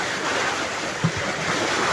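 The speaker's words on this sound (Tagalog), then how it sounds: "yung tunog ng dagat" Steady broadband rush of sea waves washing ashore on a beach in Mabini, Batangas, Philippines, a continuous surf wash with a soft thump midway, no voices.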